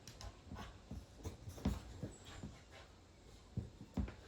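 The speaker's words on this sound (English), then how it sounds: "We've got some important doggy antics." A dog whimpers and pants in soft, irregular bursts close by, with breathy huffs recurring over several seconds and no talking.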